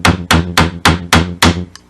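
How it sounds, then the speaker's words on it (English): A steel chisel driven by mallet blows into wood while hand cutting a mortise, six sharp, loud, evenly spaced strikes about a quarter second apart, each with a woody ring, ending in a faint tap. "I'm going to start chiseling this corner"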